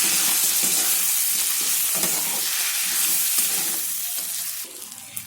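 Spices with coriander powder for dal fry get stirred in a hot pan, a close sizzle with rhythmic scraping strokes that thins and quiets toward the end.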